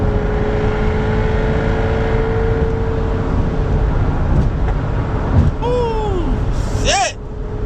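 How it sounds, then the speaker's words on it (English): A Jaguar F-type R with loud exhaust pipes idles and revs, giving a loud, close, rumbling drone throughout with a steady tone that shifts near the end, while a voice gasps and exclaims over it. "Ooh, them pipes loud."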